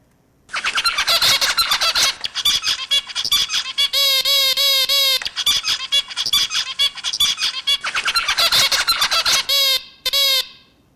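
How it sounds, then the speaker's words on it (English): A zebra finch sings in repeated bursts of buzzy, harsh squeaks and nasal harmonic notes, loud and close, with brief gaps between phrases. "I'm just going to play for you the sound of a singing zebrafinch"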